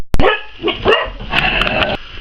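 Dogs bark outside in a rapid run of sharp, overlapping barks and yips, fairly close and loud, with no talk over them.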